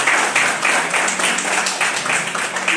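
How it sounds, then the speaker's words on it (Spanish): An audience at the opening of an event for reading narratives gives the guests a loud, sustained round of applause, with rapid overlapping claps that swell in small surges. "Así que un fuerte aplauso a los invitados."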